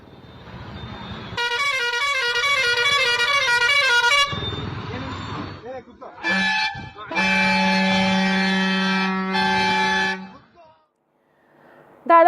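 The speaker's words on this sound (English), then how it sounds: "A unique honking incident took place in Shivamoga just 2 days ago" Vehicle horns blare loudly in city traffic in Shivamoga, India, with long sustained honks from buses or trucks overlapping in several bursts and brief pauses between them.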